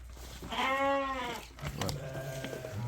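At a livestock sale of twin-bearing sheep, one sheep gives a single clear, drawn-out bleat close by, followed by softer shuffling and background noise.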